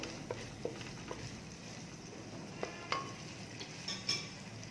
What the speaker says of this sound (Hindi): अब इसी के साथ मैं गोश्त ऐड कर दूंगी इसमें।